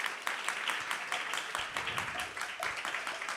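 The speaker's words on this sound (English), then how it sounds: "Please give a big round of applause." Audience applause at a devotional festival gathering, a sustained wash of many hands clapping with uneven bursts, fairly close and steady throughout.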